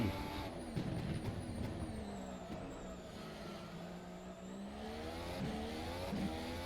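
Formula race car in the rFactor 2 sim racing game, its high engine whine rising and falling through gear changes as it runs continuously and loud through corners, with no talk.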